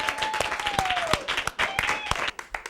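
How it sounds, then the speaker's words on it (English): Comedy club audience claps in a steady, dense burst of applause filling the room, with a faint whistle-like tone drifting through. "Give a nice round of applause again for Latice."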